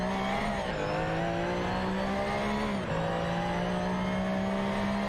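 Racing cars in a video game, McLaren F1 GTRs and Jaguar XJ220s, drone with a steady, loud engine tone that rises in pitch, dips twice as gears shift, then climbs again, with no talking.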